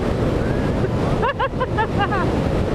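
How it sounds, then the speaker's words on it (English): A heavy, constant roar of wind buffets a motorcycle helmet on a moving Triumph T100, with a voice briefly audible underneath the rushing noise. "there's so much wind coming up in my helmet"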